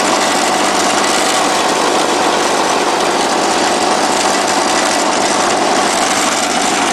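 Small lawn equipment engines run continuously at a steady, high-pitched drone, left going until they run out of gas while being winterized; the loud, even noise holds without breaks or voices.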